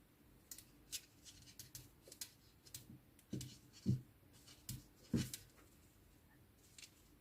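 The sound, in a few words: scissors cutting crochet yarn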